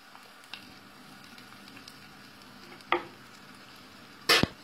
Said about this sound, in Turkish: Soğanlarımızı kavuruyoruz.